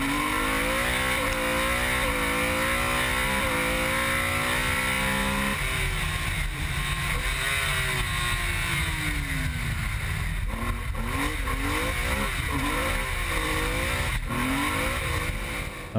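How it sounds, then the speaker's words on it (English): Rear-wheel drive rally car racing on a gravel stage at a Belgian rally: a loud, close engine revving hard through gear changes, pitch climbing and dropping repeatedly as it accelerates, brakes and slides. "Driving a rear-wheel drive on gravel is what he likes best."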